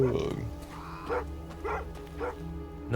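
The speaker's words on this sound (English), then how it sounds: "Oh, it's a dog." A dog barks a few times in the fantasy video game Thronebreaker, short mid-pitched woofs spaced across a few seconds, close by and fairly clear, with faint game ambience underneath.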